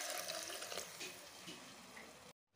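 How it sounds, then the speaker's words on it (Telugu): Water pours into a pan of tomato potato curry, a faint close splashing and gurgling stream that runs steadily before cutting off abruptly, with no voices. "ఈ టమాటాలు కూడా మంచిగా మగ్గిన తర్వాత ఇందులోకి సరిపడాన్ని వాటర్ని కూడా యాడ్ చేసుకోవాలి."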